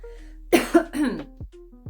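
A single person coughs a few times in a quick harsh burst, close and loud, between quiet stretches of a faint hum.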